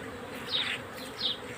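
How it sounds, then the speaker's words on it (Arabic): Honeybees buzzing around a beehive, a soft steady hum close by with two brief louder passes as individual bees fly near. "النحل بدأ يجي اهو بيطير من هنا"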